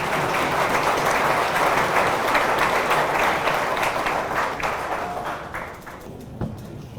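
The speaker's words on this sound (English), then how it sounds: "Let's give him a round of applause" Crowd applause at a high school athletic hall of fame ceremony, dense steady clapping that thins and fades out toward the end, with a few faint voices beneath.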